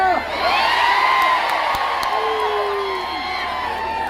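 Large crowd at a political rally cheering, whooping and shouting together, loud and sustained at first, then easing slightly with scattered yells continuing.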